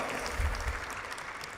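Brief, soft clapping from an audience at a summit closing ceremony, a faint, dense patter of many hands heard from a distance.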